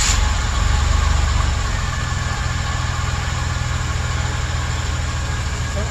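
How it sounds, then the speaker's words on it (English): A 2008 Chevrolet Express van with a misfire idles steadily in park, a continuous low engine rumble heard close with no talking. "Start the engine, transmission park."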